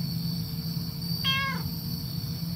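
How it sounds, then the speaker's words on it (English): A cat gives a single clear meow in the visual novel game Under Maintenance, set in an alleyway near an apartment, heard over a steady low background hum with no talk. "Oh, it's a cat!"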